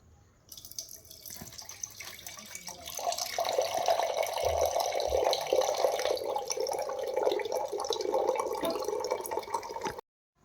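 Water pours from a clay pot into a vessel, with a few faint drips first and then a steady close splashing stream that runs several seconds before stopping abruptly, no voices.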